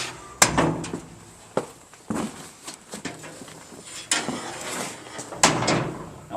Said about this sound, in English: Now all you're going to do is close your doors.